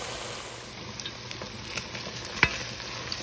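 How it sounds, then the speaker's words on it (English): Browned ground turkey sizzles in a frying pan as a spoon stirs it, giving a soft continuous fry with light scraping and one sharp clink near the middle. "I'm stirring the ground turkey, and it has browned nicely"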